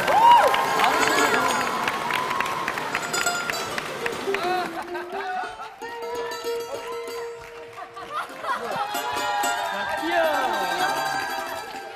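Applause and cheering rise from a studio audience as elementary school students come on stage in a Korean TV talent show, a busy crowd roar with voices and laughter mixed throughout.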